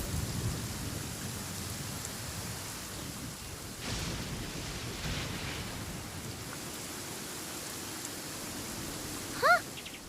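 Steady rain hisses through a stormy scene in Genshin Impact, with a low thunder rumble around the middle and a brief sharp crack near the end. No one speaks.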